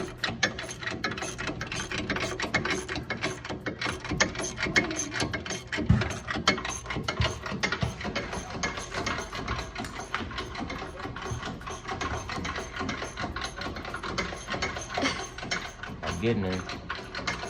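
A ratchet with a socket spins down a bolt on the front end of a Brougham car, giving a fast, continuous clicking chatter that runs close and steady throughout, with a short spoken remark.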